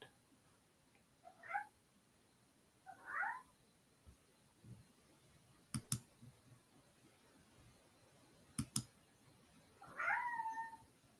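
A cat gives several separate meows, some drawn-out and wavering, spread across a quiet room with a few sharp clicks between them, close and moderately loud, with no talking.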